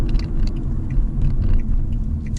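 A Fiat Egea Cross 1.4 accelerates while driving, its engine a steady low rumble with road noise, heard from inside the cabin without talk.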